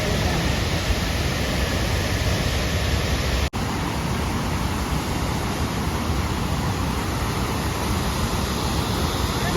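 Dense, constant rushing of a river near Giradhodh in Dang, a loud broadband roar of flowing water that never lets up, with no voices.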